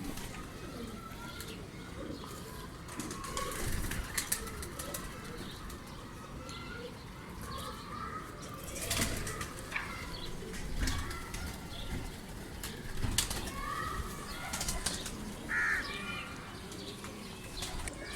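Kamagar pigeons, a pair including a large male, coo softly amid wing flaps and rustling, with scattered sharp knocks and background noise throughout at moderate, fairly distant level.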